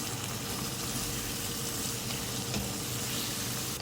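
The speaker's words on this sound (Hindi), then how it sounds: "भूनेंगे मसालों को।" Spices and tomatoes fry in a pan for chickpea biryani, giving a dense, steady close-up sizzle with scraping stirring strokes mixed in and no talking.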